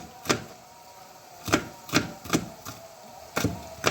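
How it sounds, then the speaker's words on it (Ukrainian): Knife chops through pepper on a board in a home kitchen, five or six sharp separate taps at an uneven pace, close and fairly faint, with no talking. "Подрібнюю перець"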